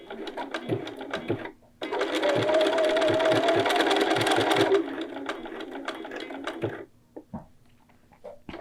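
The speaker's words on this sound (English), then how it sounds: "you can use a foot made for zigzagging and just zigzag between the two" A sewing machine zigzag-stitches a button onto fabric, running in quick mechanical bursts: a brief start, a loud steady whirring stretch of several seconds, a slightly softer continuation, then it stops, with scattered taps after.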